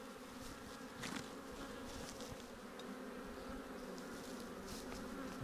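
A steady, dense buzzing of many honey bees rises from an open hive during an inspection. It is close and continuous, with no talking.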